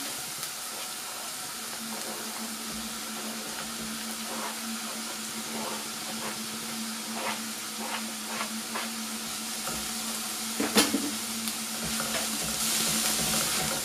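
Mushrooms sizzle in a pan with glazed onion, a steady frying hiss with a low hum beneath, broken by scattered clicks and scrapes of stirring that grow busier toward the end; no talk.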